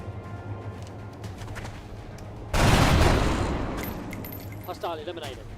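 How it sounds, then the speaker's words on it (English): A slow-motion explosion bursts loud and broad in the XCOM video game after a quiet stretch, then decays over a couple of seconds into scattered gunfire-like crackles and chirps, with faint background music underneath. "That was a nice slow motion explosion there."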